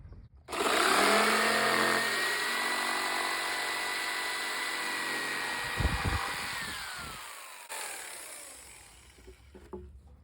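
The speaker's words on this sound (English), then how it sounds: "gonna cut out a little notch for the wire" A power tool whines loudly and steadily as it cuts a notch for a wire in wood, then winds down with a few clunks and a brief second burst.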